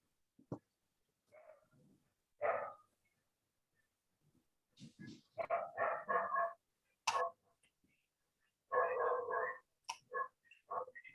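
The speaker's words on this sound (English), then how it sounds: "We have dogs." Dogs at home bark in scattered single yaps and short bursts, faint and somewhat distant, with quiet gaps between barks.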